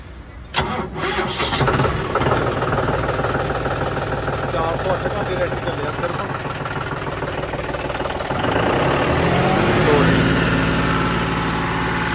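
A Swaraj 855 tractor diesel engine cranks and catches, then settles into a steady, loud idle close by, with someone talking over it.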